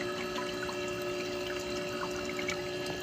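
Cold water streams steadily from a refrigerator dispenser with an ice maker, a continuous close trickling pour with no talking.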